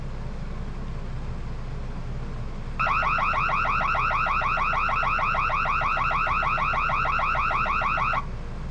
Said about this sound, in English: I'm going to turn the alarm on.